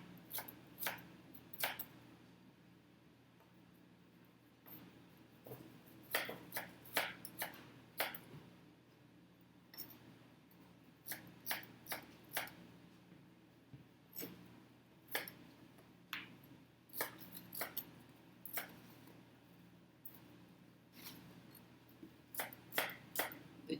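Knife chopping ginger root folded double on a cutting board, a series of sharp, close taps in irregular bursts with short pauses, no talking.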